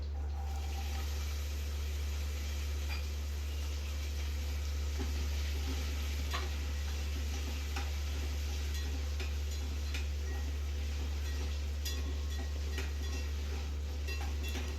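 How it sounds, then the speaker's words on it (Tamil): Curry leaves and shallots sauté in a pan with a steady sizzle and intermittent clinks of stirring, set against a loud, constant low hum. "இப்போ கருவேப்பிலை போட்டுக்கலாம். சின்ன வெங்காயம் போட்டு நல்லா வதக்கிக்கலாம்."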